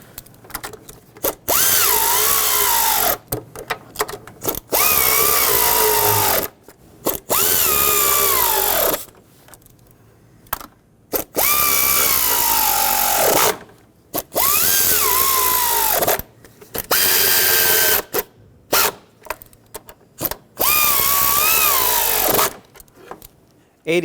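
Power tool driving and tightening valve cover bolts on a 2008-2020 Dodge Grand Caravan 3.6L engine, loud close repeated bursts of whirring with short pauses between each bolt.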